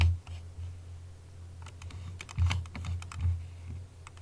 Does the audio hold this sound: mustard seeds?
no